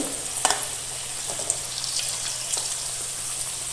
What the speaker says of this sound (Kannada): ಎರಡು ಕಡೆ ಚೆನ್ನಾಗಿ ಫ್ರೈ ಮಾಡಬೇಕು